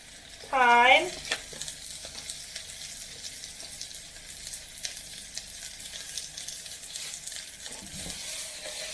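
Herbs and aromatics including thyme and bay leaf sauté for chicken fricassée, a soft continuous sizzle after a brief sharp squeal at the start, with occasional light stirring knocks and a faint clatter near the end.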